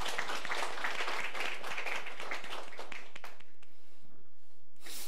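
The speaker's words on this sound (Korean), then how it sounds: "오늘 말씀이 우리 장로님 것 될 수 있도록 여러분들 박수 한번 쳐드리겠습니다" A church congregation claps together for an elder during a sermon, a thick, close burst of many hands that holds for about three seconds and then fades to a few stray claps and quiet.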